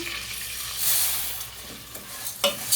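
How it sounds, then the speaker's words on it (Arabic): Macaroni frying in butter with a little oil in a pan, a steady soft sizzle with light stirring scrapes and a couple of louder clatters near the end, no voices. "وكمان هنحط شويه زيت صغيرين عشان الزبده بتاعتنا ما تتحرقش، عشان نحمر المكرونه"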